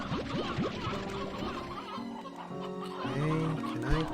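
Chickens in the video game Slime Rancher 2 cluck in short bursts over busy game sounds and music, moderately loud throughout the brief moment.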